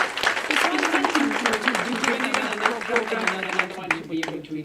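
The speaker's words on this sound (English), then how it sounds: "Let's give them a big applause." Audience applause at a women's rights organization festival, steady clapping running throughout beneath a speaker's voice.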